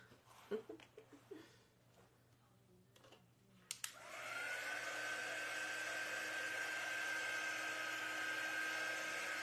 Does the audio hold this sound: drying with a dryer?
yes